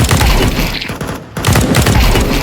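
Loud, dense gunfire from the video game Counter-Strike, with rapid shots packed together in close bursts and a brief gap just past the midpoint.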